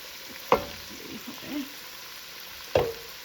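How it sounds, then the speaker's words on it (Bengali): Ginger-garlic paste and tomato frying together for mutton khichuri, a low sizzle broken by two sharp stirring scrapes of a spoon in the pot, close and moderate in level. "এই আদা রসুন বাটা আর টমেটো এই তিনটাকে একসাথে একটু বেশ কিছুক্ষণ একটু কষিয়ে নিব"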